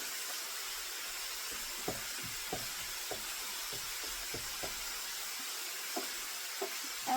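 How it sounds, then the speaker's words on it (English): Ground beef for Hamburger Helper cooks in a pan with a quiet, even hiss dotted with small irregular pops and ticks, heard alone without talk. "So I'm just going to let my meat cook."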